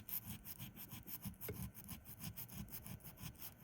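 A nail file rasps back and forth under a gel nail in steady rhythmic strokes, the file held flat and working from underneath during a full-set correction; close, continuous scratchy filing with no talk.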